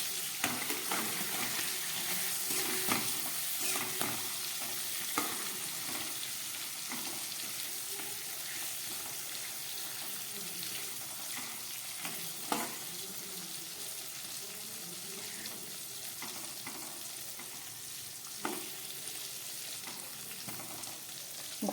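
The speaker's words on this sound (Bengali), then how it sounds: "ঘুরিয়ে ফিরিয়ে পটলগুলোকে খুব হালকা করে ভেজে নিতে হবে।" Pointed gourd (potol) pieces fry lightly in a pan with a pinch of turmeric, a soft continuous sizzle broken by occasional spatula scrapes and taps as they are turned.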